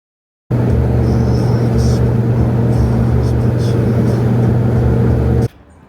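A Mitsubishi L300 van with a Hillbilly Motorsport-built engine drones loud and close with a steady low hum for about five seconds, then cuts off abruptly, leaving faint background noise.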